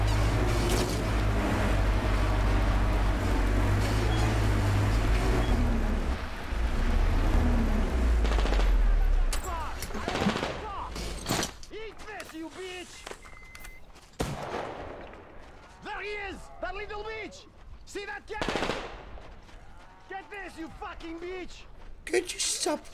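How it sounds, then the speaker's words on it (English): Gunfire in the video game Metro Exodus: dense rattling bursts under a heavy rumble early on, then sparser sharp shots mixed with game voices and talking. "Somebody's shooting on my arse."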